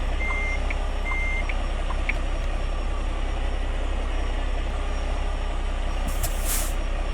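A truck in American Truck Simulator idles steadily while short reversing beeps repeat early on, followed by a sharp hiss of air brakes setting near the end.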